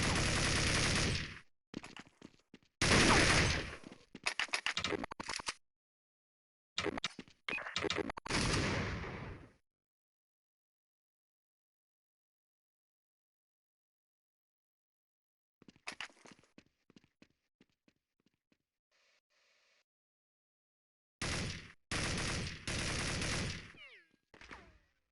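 Bursts of rapid Counter-Strike 1.6 gunfire on a deathmatch server, loud and close, coming in several volleys separated by long quiet gaps, with a few softer clicks between.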